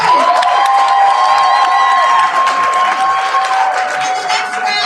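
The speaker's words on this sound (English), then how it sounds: "Applause for poets." An audience at a youth poetry slam competition claps and cheers loudly, with whoops and shrill shouts over steady applause that holds strong before easing slightly.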